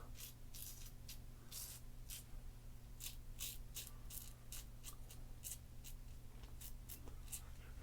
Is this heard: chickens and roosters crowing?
no